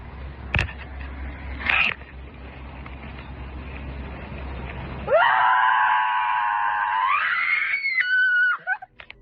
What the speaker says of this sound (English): During a scream therapy session in the woods, a girl let out a loud, piercing shriek.